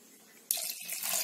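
Water is poured into a pressure cooker holding dal, cumin, peppercorns and salt, about half a cup, for a vegetable-free sambar. After a quiet start, a steady splashing pour begins halfway through and runs to the end.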